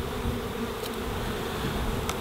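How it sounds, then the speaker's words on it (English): Honey bees from a 3-pound package buzz in a dense, continuous hum, close and steady throughout with no talking. "we're gonna show you how to install a 3-pound package of bees"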